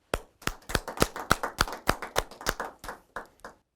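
A church congregation applauds in thanks at an online worship service, with about fourteen distinct, evenly spaced claps that sound close and fairly soft before fading out.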